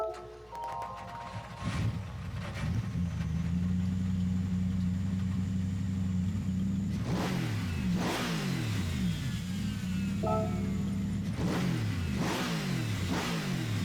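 A 2016 Mercedes-AMG GT3 race car engine in Gran Turismo 7 cranks and fires up, then revs loudly in repeated throttle blips, rising and falling pitch over a steady idle rumble.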